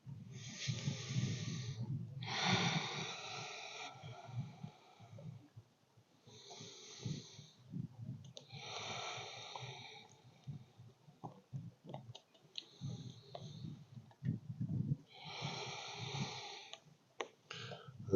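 Slow, heavy breathing comes in long rasping inhales and exhales repeated several times, close and fairly quiet, from someone resting in an exercise pose on a cottage dock.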